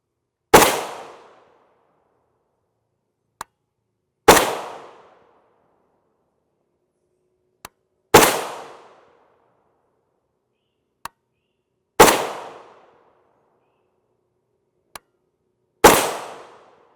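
Palmetto State Armory GF3 rifle, 16-inch barrel, shooting Patriot Sports 7.62x39mm 124gr FMJ: five loud, evenly spaced shots, each with a decaying echo tail, and faint clicks between them, no talking.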